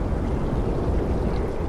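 Wind gusts up suddenly in the underwater horror game Soma, a loud, steady low rushing roar with a broad, surf-like wash that holds throughout, with no voices.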